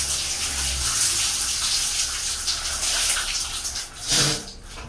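Water pours steadily during a quick, water-saving shower, a loud continuous gushing spray like a running tap that briefly surges and shifts near the end before fading.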